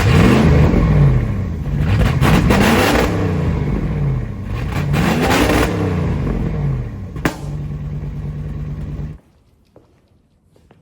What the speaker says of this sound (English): Who would have thought 30 feet of stock motorhome exhaust sounded so horrible?